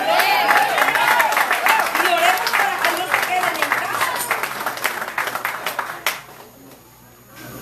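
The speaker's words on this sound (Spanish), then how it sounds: "Les un aplauso al Señor" A church congregation claps at length to honour the Lord in a full house, the dense applause gradually thinning out and stopping near the end while a voice speaks over it.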